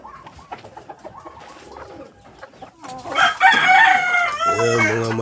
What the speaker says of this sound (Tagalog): Ayan, mga manok natin dito.